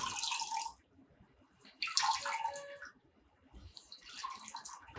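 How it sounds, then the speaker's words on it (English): Water pours into a kitchen grinder jar for making coconut milk in three short, close splashing bursts separated by quiet gaps. "we need to add a little bit of water to the grinder."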